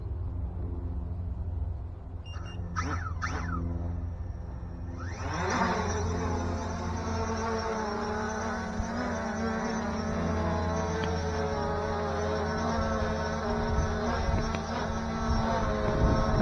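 A FIMI X8 SE drone spins up with a few beeps, then its propellers rise into a loud steady buzzing whine as it launches and hovers nearby in a light breeze, droning continuously.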